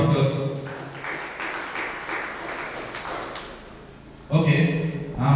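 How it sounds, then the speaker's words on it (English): Round of applause from the audience at a school quiz competition, a broad burst of clapping in a hall between stretches of an announcer's amplified voice at the start and end. "You're right. Round of applause."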